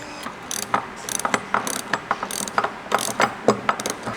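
Hex bolts with washers and nylock nuts being tightened at the corners of a Rotopax can mount for a Sherpa roof rack, a close, steady series of quick ratcheting clicks in short bursts with no talk.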